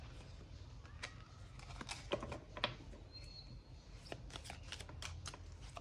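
A deck of cards being shuffled, quiet riffling and soft card flicks in a rapid crackling pattern, close but faint, with no talking.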